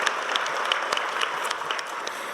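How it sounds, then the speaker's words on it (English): Audience applause at a health conference lunch panel, a steady patter of many hands clapping at moderate distance, sustained without pause for the whole stretch. "Let's give them a round of applause."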